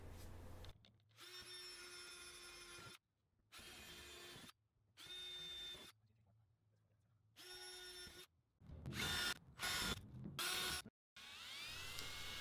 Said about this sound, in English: Install the screws by moving from corner to corner around the flange.